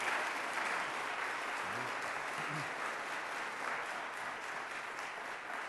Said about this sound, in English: can we get another round of applause for Dr. Dyson